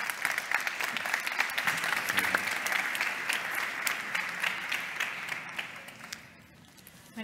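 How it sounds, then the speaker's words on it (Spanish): A large audience at a talk on educating for talent and values gives sustained, dense applause, which fades toward the end. "Un aplaudiment per ells"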